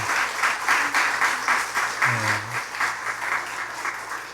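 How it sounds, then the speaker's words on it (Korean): A church congregation at a Sunday worship service breaks into warm, continuous applause, the clapping rising and falling steadily with a brief low voice underneath. "우리 박수로 한 번 더 격려하도록 하겠습니다"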